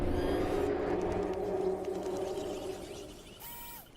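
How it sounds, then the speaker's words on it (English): A T-Rex roar from the PUBG Mobile video game, a deep, loud, drawn-out rumbling growl that slowly fades, followed by a brief electronic chime at the end. "That's the sound of the mighty T-Rex."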